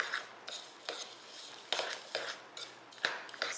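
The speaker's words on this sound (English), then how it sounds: "I'm just gonna stir it a little bit, help it along" Oreo cookie crumbs stirred with melted butter for a crust, a utensil scraping and clinking against a bowl in short, irregular strokes, close and fairly quiet, with no talking.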